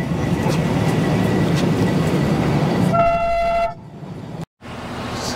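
The Darjeeling toy train, a narrow-gauge mountain railway in India, rumbles steadily along the rails, then its horn sounds in a sustained tonal toot before the rolling noise drops and briefly cuts out.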